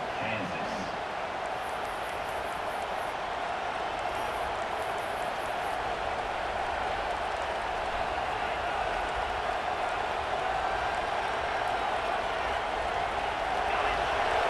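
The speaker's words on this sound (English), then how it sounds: "this big crowd doing everything possible to inspire this defense down here near the goal line" A big football stadium crowd roars continuously near the goal line, a dense sustained wash of cheering and noise under a commentator's voice throughout.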